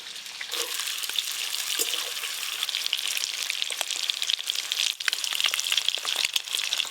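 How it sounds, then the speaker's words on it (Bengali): Halved boiled eggs fry in hot oil in a pan, giving a steady, close sizzle with occasional crackles and pops throughout. "ঠিক সেরকমভাবেই ডিমগুলো আমি ভাজবো"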